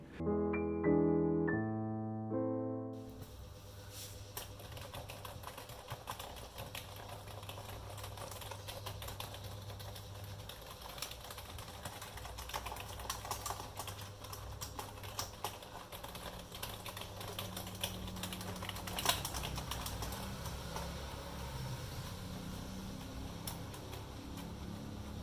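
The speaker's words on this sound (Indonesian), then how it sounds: "Untuk ngetik pun dia benar-benar lebih presisi daripada saat saya menggunakan keyboard mechanical TKL" Brief rising musical tones open the clip, then typing on a Logitech K650 wireless keyboard: a steady run of soft, close key clicks and taps that continues to the end with no speech.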